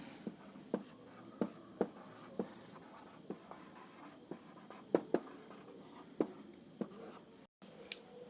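Pen writing out an example on paper, a steady series of soft scratchy strokes and taps, close and quiet, with no voice over it.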